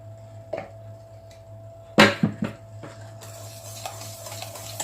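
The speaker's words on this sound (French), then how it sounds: "On mélange bien." A utensil stirs pumpkin cake batter with orange juice, cinnamon and walnuts in a bowl, with a few faint scrapes, then a brief burst of louder clinking and scraping against the bowl.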